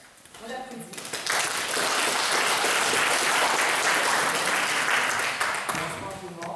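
An audience at a municipal evening talk on shale gas history breaks into full applause for the speaker. It rises quickly from a few claps into loud, dense clapping that holds for several seconds, then fades as a voice begins talking.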